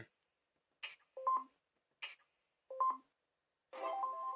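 BlackBerry touchscreen taps producing phone keypad tones: a faint tap click before each of two short stepped melodic tone sequences, then a longer blended chord of tones, quiet and sparse with silence between.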